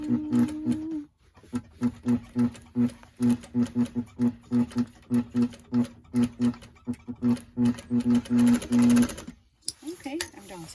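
A domestic sewing machine runs a stabilization stitch on a woman's blouse in rapid stop-start bursts of mechanical chatter, pausing briefly, then stitching on in a steady rhythm before stopping.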